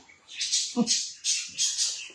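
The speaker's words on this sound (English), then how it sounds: "Sounds like I'm in a forest with all these birds." Bright bird chirps repeat in bursts across the clip, fairly close, with a brief low rustle or voice-like sound in the middle.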